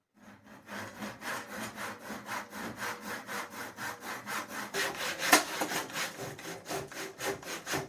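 A hand saw rasps through a wooden milk churn in steady back-and-forth strokes, an even rhythm of close, scratchy pulses with no talking.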